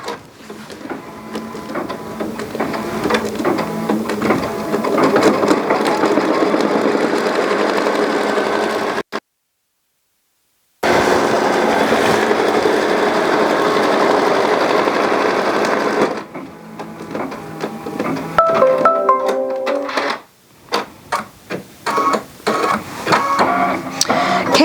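An embroidery machine stitching an applique placement line on Minky fabric, a loud, fast mechanical chatter nearby that stops briefly, resumes, then turns into uneven bursts of stitching.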